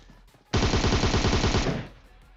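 A close, dense burst of automatic gunfire in the video game PUBG, a rapid rattling stream of shots lasting just over a second before cutting off into quiet.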